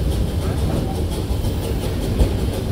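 A narrow gauge steam train at Roaring Camp & Big Trees Narrow Gauge Railroad rolls slowly through a switch, with a steady low rumble and faint rhythmic wheel clatter close by and no talking.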